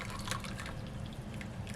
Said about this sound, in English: I'm going to pour the rest of the tea.